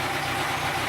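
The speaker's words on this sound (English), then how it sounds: "Well, the engine's warmed up now." A warmed-up Kawasaki Z1000 motorcycle engine idles in a garage with a steady, even low rumble throughout.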